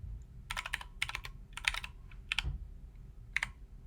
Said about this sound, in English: I'm going to go ahead and type in my my signature